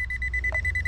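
A metal detecting pinpointer gives a rapid string of short, evenly spaced electronic beeps, close and steady over a low rumble, in a backyard dig.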